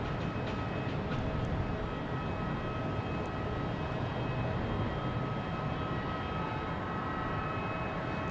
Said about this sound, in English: Delta, flight 257 coming in from Amsterdam and A330-900